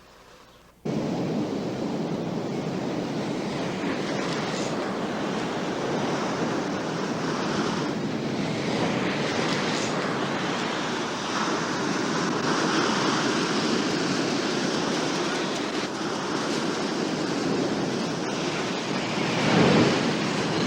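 Ocean surf breaks on a beach in a continuous loud wash of rolling waves with wind noise, steady throughout without pause.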